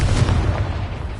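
Confringo fire spell in Hogwarts Legacy, a deep rumbling blast with a burst of noise that swells and fades over about a second, loud and close.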